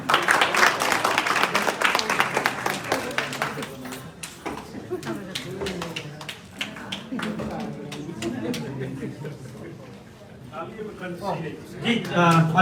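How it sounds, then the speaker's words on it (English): Audience applause at a general convention, a dense burst of clapping and chatter that fades after a few seconds into scattered claps under someone talking over a PA, then a brief renewed swell. "Please give him a big applause of hands"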